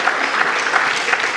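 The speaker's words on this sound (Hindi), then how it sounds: "एक बार सभी के लिए एक बार जोरदार तालियां" Audience applause at a university foundation day gathering, a dense, even wash of many hands clapping at moderate volume, sustained throughout with no voices over it.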